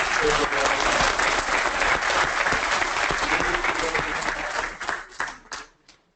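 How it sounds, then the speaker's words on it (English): A conference audience gives the panelists a big round of applause at a leadership event, a dense, loud sustained clapping that thins out and fades to a few last claps at the end. "So a big round of applause, please, for the panelists"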